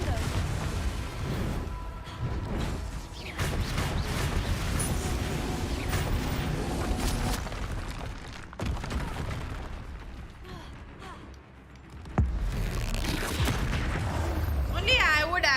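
Repeated explosive spell blasts in the video game Hogwarts Legacy, booming, gunfire-like bursts in a busy battle mix with other combat effects and speech.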